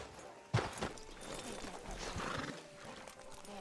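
A horse in the Western video game Red Dead Redemption neighs and its hooves clip-clop, with a sharp sound near the start over a busy game soundscape.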